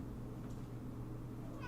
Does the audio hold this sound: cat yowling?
yes